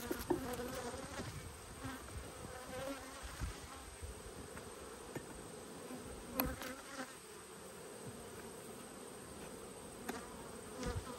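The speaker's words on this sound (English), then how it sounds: "like all these hives, they're bringing in an enormous amount of nectar" Honey bees swarm around beehives during a heavy nectar flow, making a close, dense buzzing drone with individual insects whirring past now and then.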